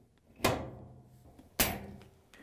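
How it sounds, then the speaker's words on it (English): A dryer door, Whirlpool, KitchenAid or Maytag, is lifted and its hinges pulled from the frame, giving two sharp clunks about a second apart with faint handling noise between. "we can carefully lift up on the door and pull the hinges out of the frame."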